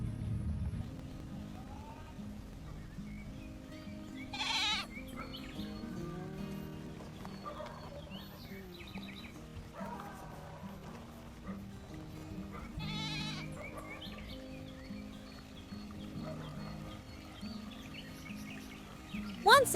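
A goat bleats several times in short wavering cries while hitched to a small wooden cart, heard over a steady low background with scattered bird calls.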